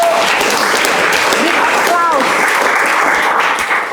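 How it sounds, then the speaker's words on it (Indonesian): Sustained audience applause fills the room at a lecturer certification event, steady and fairly loud, with some voices faintly mixed into the clapping. "Wow, tepuk tangan dulu."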